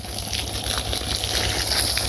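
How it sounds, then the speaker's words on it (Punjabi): Water being splashed onto stacked bricks at a building site after dark, a continuous rushing, gushing wash of liquid, fairly loud and steady throughout with no voices. "ਹੁਣ ਹਨੇਰੇ 'ਚ ਪਾਣੀ ਲਾਉਣਾ ਪੈ ਰਿਹਾ।"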